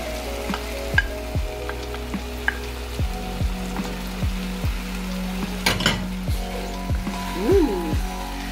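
Onions go into a hot pan with smoked goat meat and sizzle steadily, with repeated metallic scrapes and clinks of a spoon stirring against the pan.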